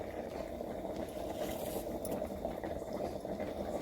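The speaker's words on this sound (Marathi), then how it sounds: "आता आपण कारले उकडायला घालतोय." Salted water with bitter gourd in it bubbles and simmers in a wok, giving a continuous, close, soft boiling sound throughout.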